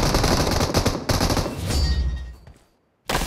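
Rapid automatic gunfire in the battle royale game BGMI, loud close bursts of shots with a short pause, then a tail-off into silence before another burst starts.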